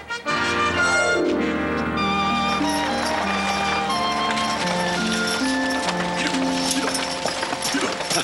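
Horse hooves clip-clopping in a western TV scene, a steady rhythmic clatter mixed under loud orchestral music throughout.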